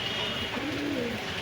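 A pair of teddy pigeons, sold as birds at a pigeon sale, makes a brief, soft, low coo against a steady background hum.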